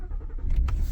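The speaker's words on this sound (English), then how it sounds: "we need to start the vehicle first" A 2017 Ford Explorer engine starting up, a brief low rumble with a short cranking burst rising near the end, close and fairly loud with no talking.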